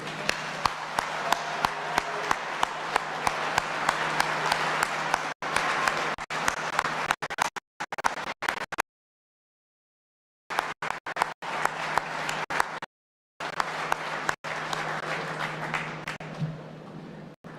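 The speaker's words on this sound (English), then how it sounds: "A round of applause for all of you" Audience at a celebration event for GM's Toledo propulsion plant gives a sustained round of applause, clapping dense and loud, cut by a couple of abrupt silent gaps before fading near the end.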